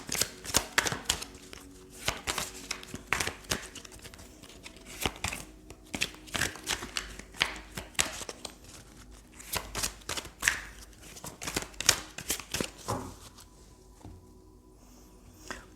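Oracle cards shuffled by hand in quick, uneven bursts of soft riffling and slapping, close and fairly quiet, with short pauses between runs and no talking.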